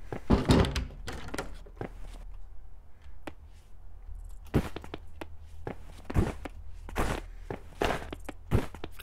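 In a dungeon-crawling video game, a door thunks open amid a run of close, distinct footsteps, with sharp, evenly spaced steps punctuating a quiet background.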